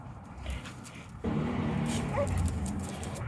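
A puppy whimpers and lets out small yips outdoors on a lakefront, a thin high whine over steady background noise.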